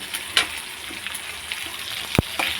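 Pasta cooks in a shallow pan at home, giving a steady close sizzle with occasional scraping knocks of a spoon stirring against the pan.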